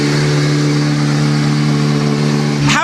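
Steady drone of Sébastien Ogier's Volkswagen Polo R WRC rally car engine in 2013, a loud sustained harmonic tone held evenly throughout, with a short rising burst at the end.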